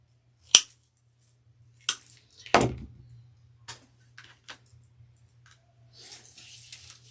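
Several sharp snips and cracks ring out one at a time as greenery branches are cut off a stem, with crisp cutting sounds at irregular intervals and a low hum in between.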